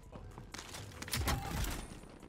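Gunfire rattles in a Warzone match, bursts of shots that swell in the middle and carry on at moderate distance over a steady game background.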